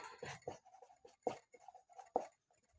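Chalk or pen strokes on a board during an organic chemistry class, a series of short scratchy marks separated by pauses, close and fairly quiet.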